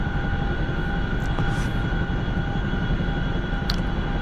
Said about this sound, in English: which is why the Chinook floats around and gets all twisted and messed up so easily,